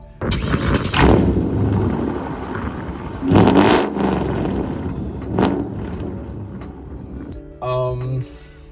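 A V8 engine revs in several deep, roaring bursts through its exhaust, rising and falling between quieter idling moments, with a voice briefly heard.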